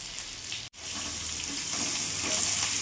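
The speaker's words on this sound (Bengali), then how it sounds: "নাড়াচাড়া করে একটু ভালো করে একটু লাল লাল করে একটু ভেজে নেব" Pointed gourd pieces frying with salt and turmeric in a pan over medium heat make a steady close sizzle, broken by a very short cut near the start.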